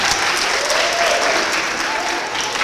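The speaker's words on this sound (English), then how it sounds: "So let's give those two rooms a big round of applause." Students and families at a school academic awards assembly applaud two special education classrooms with a steady, full burst of clapping that holds at constant loudness throughout.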